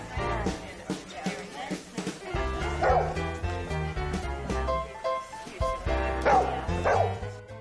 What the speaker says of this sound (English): she barks at her young friends to tell them no